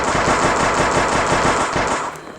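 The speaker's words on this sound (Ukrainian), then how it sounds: "Так, друзі, беремо наш кулемет." Rapid machine-gun fire from The Last Road, a platformer zombie survival game, with dense regular bursts that run loud for about two seconds and then cut off.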